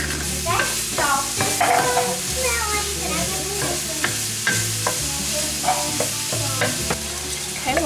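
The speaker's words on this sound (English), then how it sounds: "we'll just whisk the eggs" Four eggs being whisked in a bowl for a breakfast pie: a steady, close run of rapid stirring clicks and scrapes, loud and continuous, with no talking over it.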